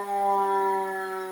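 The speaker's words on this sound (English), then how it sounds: "Now Mary's going to show you the hand siren" A hand-cranked siren at a fire museum gives one sustained, loud, steady wail with strong, even harmonics, holding its pitch throughout.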